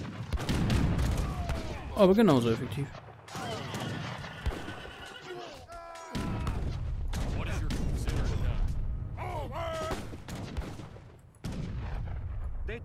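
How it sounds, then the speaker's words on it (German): Small cannons firing in the Age of Empires III game, scattered bursts mixed with horse whinnies and clip-clopping hooves, while someone talks over the battle. "Lustige kleine Kanonen."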